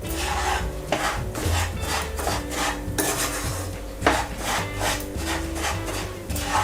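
Lumps of hot sugar being broken up and scraped in a pan on a gas stove, heard as steady, repeated grinding and scraping strokes throughout, close up, with background music and no talking.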